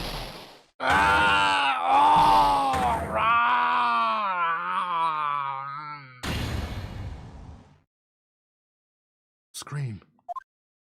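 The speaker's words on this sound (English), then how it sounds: "I've heard that scream before." Mr. Von Karma screaming in Phoenix Wright: Ace Attorney, a long, loud, strained groaning cry that wavers in pitch for several seconds, followed by a harsh burst, silence, then a short squeal.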